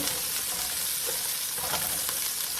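Onions and carrots fry hard on high heat in a pan, giving a dense, steady, loud sizzle that runs unbroken with faint stirring movement underneath.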